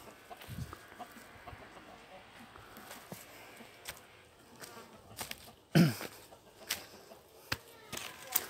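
A jungle fowl calls outdoors, one short crowing burst standing out mid-clip amid insect buzzing and scattered rustles and taps, fairly close against a quiet natural background.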